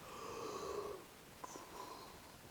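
A single drawn-out human yawn, breathy and voiced, close to the microphone, followed by a short exhale and quiet.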